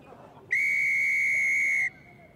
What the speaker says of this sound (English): a long blast of the whistle